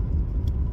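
Steady low rumble of a car moving through traffic, with a continuous engine and road drone filling the whole moment and no talk over it.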